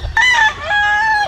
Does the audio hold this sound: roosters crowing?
yes